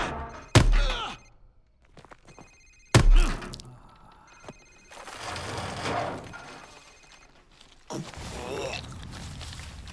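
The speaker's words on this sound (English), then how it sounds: "Sir, it's his cell phone." A cell phone ringing in Call of Duty Modern Warfare Remastered, repeated ring bursts separated by heavy thuds and a groaning voice, with a tense indoor interrogation setting.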